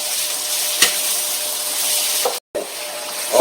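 Green onions stir-fry in oil in a pan to make scallion oil for mapo tofu, giving a steady loud sizzle broken by a few spatula scrapes and knocks and one brief dropout.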